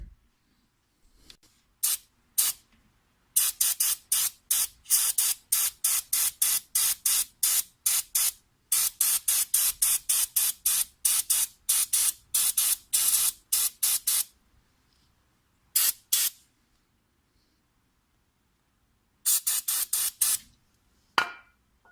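Brake cleaner sprayed around a BMW E60/E61 front brake rotor in many short, sharp aerosol hisses, close and loud, fired in rapid clustered runs with silent gaps between the groups.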